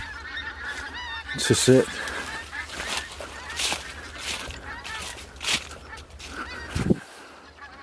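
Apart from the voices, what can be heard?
Canada geese honking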